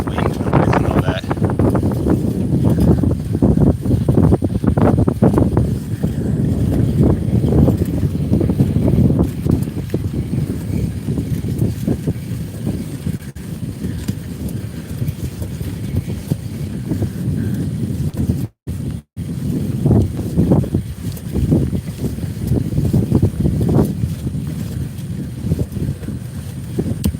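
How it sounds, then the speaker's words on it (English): Steady, loud wind buffeting the microphone while cycling outdoors, a broad rumbling roar that swells and eases throughout, with a brief dropout near the end and no talking. "some wind noise and all that."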